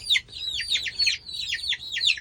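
Young silkie chickens, a mix of hens and roosters, peep and chirp in quick, repeated high calls close by, a steady chattering series with no talking.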